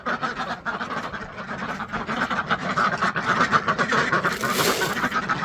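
Ducks quack in a steady, busy chorus close by on a homestead farm at feeding and watering time, the calls layered and continuous with no speech over them.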